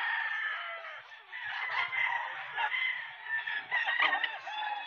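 Gamefowl rooster crowing among other clucking chickens at a busy pet market before dawn, a sustained, fairly distant crow layered over a dense background of fowl calls.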